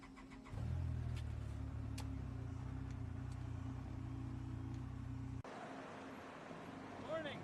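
In the Farming Simulator 25 video game, a truck engine idles with a steady low rumble that cuts off abruptly near the end, leaving quieter ambient sound.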